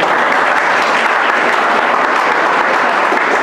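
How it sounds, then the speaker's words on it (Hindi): Students clapping together at a motivational and career guidance seminar in a school, loud continuous applause filling the whole moment with no talk over it. "ये सारे जितने तालियां बजा रहे हो ना"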